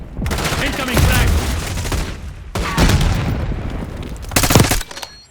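A frag grenade explodes among rapid gunfire in Call of Duty Black Ops 6, with loud, dense bursts of shooting and booms in close succession and short gaps between them.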